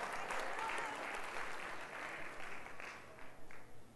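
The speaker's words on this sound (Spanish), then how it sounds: "se hace un aplauso" Applause from a church congregation during a sermon, a broad wash of many hands clapping at moderate level that slowly thins and fades toward the end.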